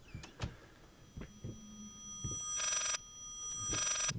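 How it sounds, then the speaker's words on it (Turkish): An old telephone ringing in the horror game Layers of Fear, two long electric bell rings separated by a pause, following a few scattered knocks and clunks, with a faint hum underneath. "Bu ne abi? Telefon sesi mi o?"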